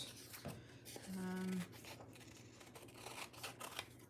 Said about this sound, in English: Okay, so I am going to cut these out.